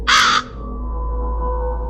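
A single harsh crow caw, loud and close, stands alone against a steady low hum in a dramatized audiobook reading of Poe's The Raven.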